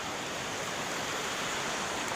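River water rushing steadily along the Marabong river after recent flooding, a continuous broadband wash heard alone and fairly close, with no voices.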